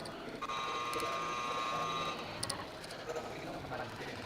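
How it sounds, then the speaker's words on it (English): A shot clock buzzer at a poker final table in a card club, a sustained electronic tone lasting under two seconds amid background chatter and a commentator's voice. "That is the sound of the shot clock buzzer."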